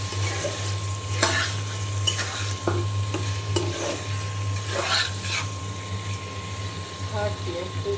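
Meat tossed into oily, well-cooked spice masala and stirred, a moderate frying sizzle under a low steady hum, with scattered spoon scrapes and clatters against the pot.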